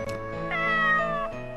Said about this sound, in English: With its head tilted slightly to the side, it let out an adorable meow